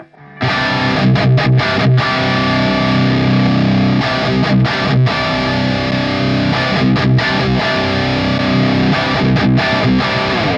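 Heavily distorted electric guitar playing sustained chords and riffs through an EL84 amp impulse response with a midrange boost around 600 Hz, loud and continuous with brief gaps between phrases.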